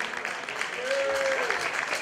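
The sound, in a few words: audience applause for a team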